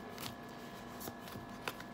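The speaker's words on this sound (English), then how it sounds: "I've been shuffling the cards, thinking about what it is that you need to know." A deck of cards shuffled for a tarot love reading, giving a soft, steady riffling close by with a few sharper snaps, alone and with no talking.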